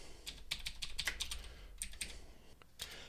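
Fingers type Python code on a computer keyboard in quick irregular bursts of light clicking keys, close up and fairly quiet, with brief pauses between clusters and no talking.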